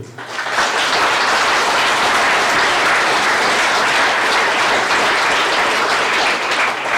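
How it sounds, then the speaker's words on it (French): Sustained applause from a crowd at a mayor's New Year address in Verlinghem, France, steady and loud throughout with no break, dense clapping filling the whole stretch. "Ils sont là, vous pouvez les applaudir."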